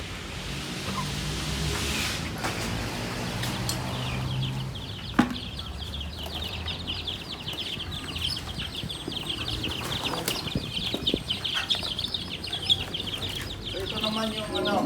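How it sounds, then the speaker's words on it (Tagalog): A flock of chickens clucks and cackles, with a brood of ten newly hatched chicks peeping thinly alongside, all fairly close, under steady background noise. "So ito yung bagong pisa. So kanina lang. So 10 piraso yung sisiw."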